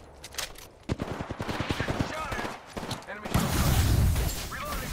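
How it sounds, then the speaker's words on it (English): Rapid bursts of automatic gunfire in an Apex Legends match, a fast run of sharp shots followed by heavier booming fire, with a voice talking over it. "I'm taking shots. Taking fire."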